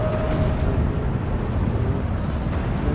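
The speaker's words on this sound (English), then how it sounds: "Explosions." Explosions in a Steel Division 2 battle merge into a dense, steady rumble of blasts that holds loud and unbroken for the whole stretch.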